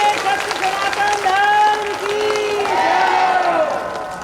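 Applause from devotees at a Hindu satsang gathering swells and holds for several seconds, fairly loud and close, while voices carry on over the clapping.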